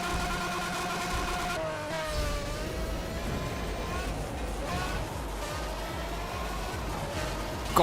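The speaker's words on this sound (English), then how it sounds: "God, this car's loud." A loud car engine in the racing game Need for Speed: World drones steadily with whining, shifting harmonics as revs rise and fall, continuous and prominent throughout.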